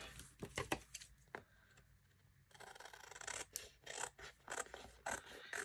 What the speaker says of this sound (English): So inside, this is going to be a pocket. I'm going to trim this.